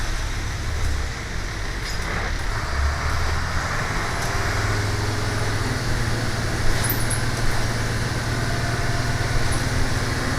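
An old bus engine, not yet up to running temperature, drones steadily with a low rumble and mechanical hum, loud and continuous with slight rises in pitch.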